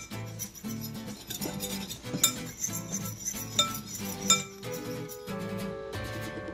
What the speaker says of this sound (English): What I'm going to do is take a fork and I'm going to whisk it all together.